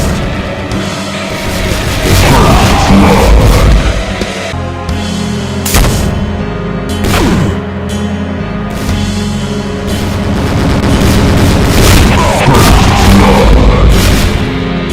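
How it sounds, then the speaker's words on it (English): Demon Tech shotgun projectile volleys from a Cyberdemon in a Doom mod: dense, loud, continuous layers of booming blasts and whooshing shots with several sweeping bursts, all over a thick, roaring wash of combat noise. "A wide spread of rapid projectile-based Demon Tech shotgun shots."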